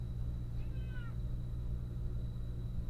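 A cat gives a single short, faint meow partway through, set against a steady background hum in a quiet indoor room.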